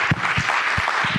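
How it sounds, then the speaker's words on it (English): An audience at a research talk applauds in a brief, steady patter of clapping with no voices over it. "a round of applause for rolling with the punches on not having AV"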